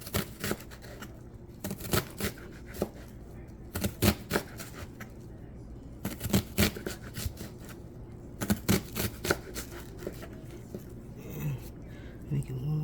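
Onion sliced with a knife for a salad, giving crisp chopping taps that fall in small clusters and scattered single cuts, close and fairly faint, with a person speaking between them.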